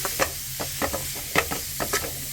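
Grated carrot being stirred nonstop in a hot pan for carrot halwa, soft scraping strokes repeating every half second or so over a steady low sizzle.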